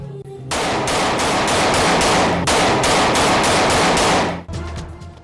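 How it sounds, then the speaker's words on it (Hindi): Aerial firing in a city, a loud close burst of rapid shots fired into the air in two long rattling volleys, followed by a brief quieter tail. "शहर में एक के बाद एक हवाई फायरिंग का वाकया।"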